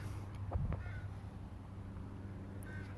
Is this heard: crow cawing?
yes